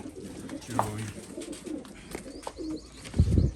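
Soft, low pigeon coos repeat a few times amid light background chatter and rustling, with a fuller burst of cooing near the end, as pigeons are fed.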